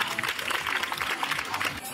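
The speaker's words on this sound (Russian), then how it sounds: "Аплодируем, поддерживаем." Clapping spectators at a Golden Retriever specialty dog show ring in Kazan, a short burst of crowd applause with an announcer's voice talking over it.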